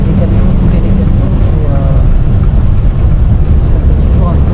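Heavy traffic rumbling steadily along a winding, hilly Italian road that is not a motorway, with trucks passing close by in a continuous low roar that holds through the whole stretch.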